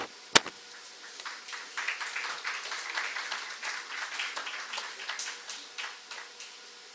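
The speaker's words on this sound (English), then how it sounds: "please give a huge round of applause to Mr. Paul Jones." Audience applause at a startup competition prize ceremony, a sharp knock at the start, then a dense patter of many hands clapping at moderate loudness, slowly thinning toward the end.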